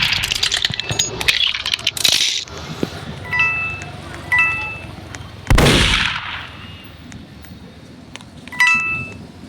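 Diwali firecrackers going off outdoors: a few sharp bangs with one loud, close burst near the middle, with fainter crackling and background voices around them.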